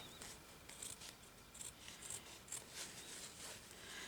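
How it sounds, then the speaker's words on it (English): Quiet, repeated snips of scissors cutting through fabric, several crisp short cuts with a soft rustle between them. "I hope I haven't got the worst scissors that I own here"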